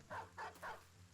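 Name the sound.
dog barking in video game Battle Brothers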